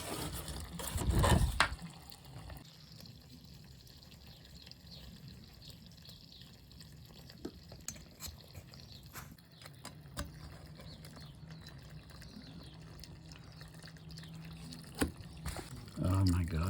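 Leftover water runs and trickles from a copper plumbing pipe in the space under a house, a faint continuous flow after a brief louder splash at the start, with occasional small knocks.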